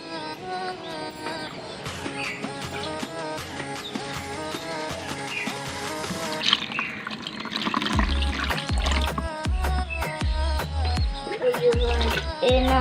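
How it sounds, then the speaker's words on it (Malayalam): Water fills a tub being set up as a guppy pond, a steady splashing and trickling stream that grows heavier and more churning partway through, with bits of algae dropping in. "നമ്മളിത് ഈ വെള്ളം നിറയ്ക്കാൻ പോവാണ്."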